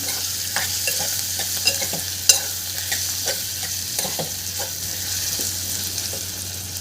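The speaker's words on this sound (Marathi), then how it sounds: "इथे आपल्याला कोथिंबीर घालून घ्यायची आहे थोडीशी परत मिक्स करून घ्यायचं आहे" Spoon stirring veg dal khichdi with masala and fresh coriander in a pan, scraping and clinking in scattered strokes over a steady close sizzle, with no talking.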